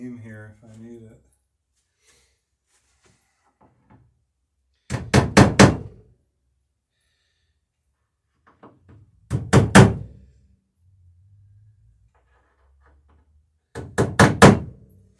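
Rivets are set into a boat in three sharp, loud hammer-like thunks spaced several seconds apart, each a tight cluster of quick hits, with a brief voice at the start and quiet stretches between.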